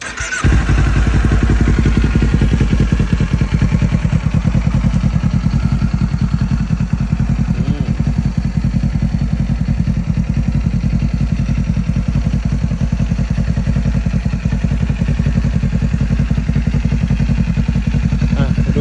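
A 2020 Kawasaki Ninja 400 with a loud aftermarket exhaust idles loudly and close, a constant rapid chugging with no gaps or revving.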